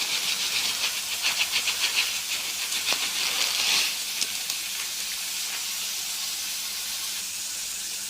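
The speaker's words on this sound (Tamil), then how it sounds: "நமக்கு இப்போ தண்ணி நல்லா கொதிச்சிருச்சு" Water boiling in a pot for semiya upma gives a loud steady hiss and bubbling rumble close by, with brief rattling pulses early before settling into constant seething.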